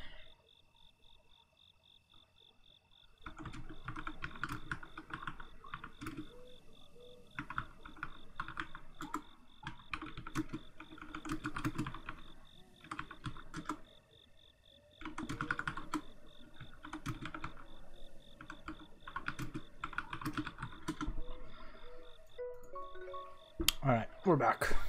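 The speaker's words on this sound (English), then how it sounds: "It's a little bit hard to type when my microphone is in front of my keyboard." Rapid clicky keystrokes on a computer keyboard come in bursts over about twenty seconds, close to the microphone, with a constant game soundtrack of chirping insects and croaking frogs behind and a louder clatter at the end.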